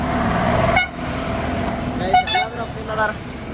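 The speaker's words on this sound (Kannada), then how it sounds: "ಹಾರ್ನ್ ಅಣ್ಣ ಹಾರ್ನ" Short horn toots from a large tanker truck sound twice amid traffic rumble, with voices talking nearby.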